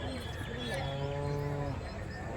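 A cow gives one long, low moo at a busy Friday cattle market in Kundarapalli, Krishnagiri district, over a steady murmur of traders' voices in the background.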